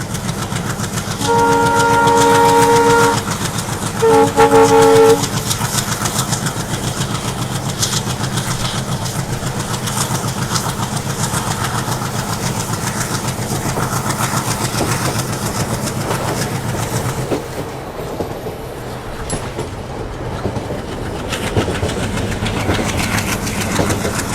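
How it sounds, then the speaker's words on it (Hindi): Diesel locomotive train on the Khagaria–Alauli rail line, a loud continuous engine drone and rolling wheel rumble heard from inside, with a horn blast early on, steady throughout. "अब आ रहा है डीजल लोको वाली ट्रेन में सफ़र करने का मज़ा।"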